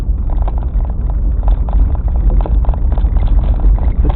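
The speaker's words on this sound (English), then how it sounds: "Engine starts without a problem." A 1956 Cadillac in all-original condition runs close to the microphone, its engine giving a steady low rumble with a rapid, even pulse throughout.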